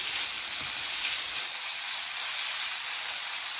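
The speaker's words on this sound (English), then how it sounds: "Let's get our meat added in our skillet." Meat frying in a hot skillet for a batch of baked beans gives a steady, loud, close sizzle with a dense crackling hiss that stays even throughout, with no voices.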